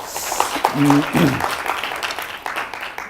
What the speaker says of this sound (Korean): 답변해 주신 고상철 박사님한테 박수 좀 부탁드리겠습니다